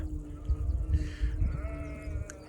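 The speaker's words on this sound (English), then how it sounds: "There's one of the constant sounds all the way along Hadrian's Wall is the sheep." A sheep bleats once outdoors along Hadrian's Wall in a faint, wavering call at moderate distance, over low wind rumble and quiet background noise.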